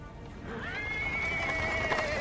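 A horse pulling a cart in the video game Pathfinder: Wrath of the Righteous gives a long, clear whinny over a soft, steady background of hooves and rolling wheels.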